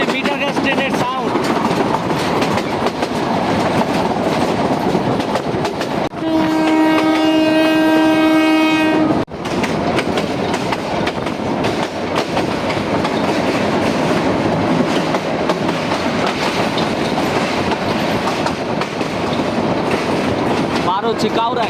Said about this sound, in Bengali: এটাই হচ্ছে মিটার গ্যাস ট্রেনের সাউন্ড।